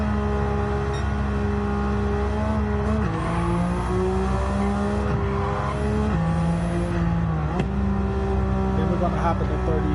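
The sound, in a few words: Nissan Skyline GT-R R33 engine and tyres in a racing video game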